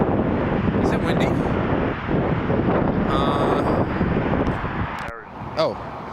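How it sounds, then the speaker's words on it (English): Wind buffeting a microphone on a rooftop near Toronto Pearson airport at sunrise, a loud continuous rumbling rush under someone talking, with brief whistly tones and a short lull near the end. "Wow, it is windy."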